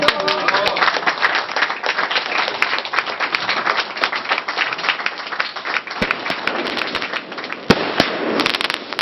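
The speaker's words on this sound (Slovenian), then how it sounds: "Kompanija je poslušala ognjemet." Fireworks bursting at a 50th birthday party, a dense, continuous crackle of explosions and loud pops filling the whole stretch with a few sharper bangs near the end.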